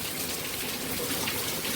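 Floodwater gushes through farm fields after days of heavy rain, a faint but continuous rushing flow heard alone for under two seconds.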